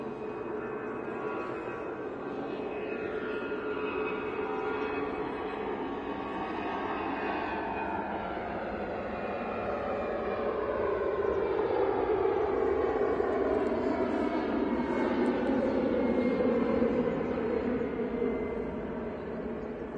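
An EasyJet airliner at Manchester Airport gives a distant, sustained engine roar with whining tones that sweep downward, swelling slightly louder midway before easing off.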